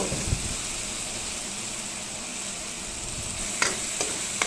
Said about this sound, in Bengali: এবার কড়াইয়ের ঢাকনা খুলে দিয়ে দেব গাজর কুচি